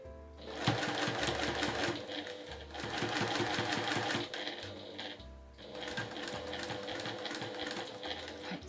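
Domestic sewing machine stitching a fabric drawstring bag, running in steady bursts of rapid mechanical chatter with short pauses between, close and fairly loud with no talking.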